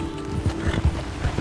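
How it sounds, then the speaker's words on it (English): Horse hooves clip-clop in a steady, close rhythm in Red Dead Redemption 2, with a low engine-like hum underneath. "Like a pretty nice horse."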